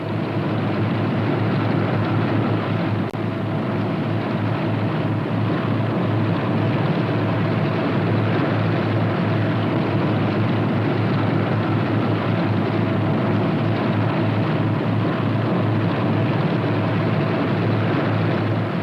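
A steady, loud droning of engines runs unbroken throughout, a heavy rumble from a Northrop P-61 twin-engine aircraft rolling slowly while taxiing on the ground.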